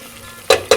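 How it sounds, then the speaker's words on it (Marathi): Two quick sizzling bursts of spice paste frying in hot oil, close by, each flaring up as it is stirred, with quiet background between them. "खमंग वाटण आपल्याला तेलामध्ये फ्राय करून घ्यायचे म्हणजेच तळून घ्यायचे"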